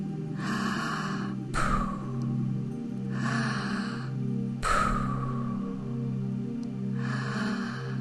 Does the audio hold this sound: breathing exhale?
yes